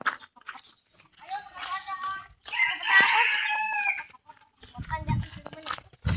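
Chickens cluck and squawk in short, bright bursts, with a longer call near the middle, while people shout and talk over the birds during an outdoor chicken-catching game.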